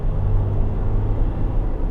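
A Land Rover Discovery 4 SDV6 diesel engine drones with a low, steady rumble, building slightly as it accelerates, heard from inside the vehicle with no talking.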